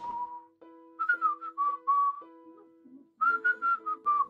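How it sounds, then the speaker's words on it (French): Someone whistles a cheerful melody in short, clear phrases with brief pauses between them, close and alone. "pourquoi est-ce que tu sifflotes?"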